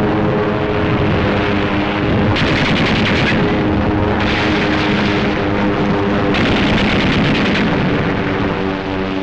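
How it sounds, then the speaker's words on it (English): Bombs and machine-gun fire pound the area during the December 7th Pearl Harbor attack: a loud, continuous roaring rumble with recurring bursts of rapid crackling fire layered on top. "Scattered bombs, incendiaries, and machine gun fire had changed their minds."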